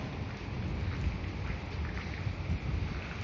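Sudden rain falls in Kuwait, driven by wind, as a dense, steady hiss of drops with a low rumbling buffet underneath. No one speaks.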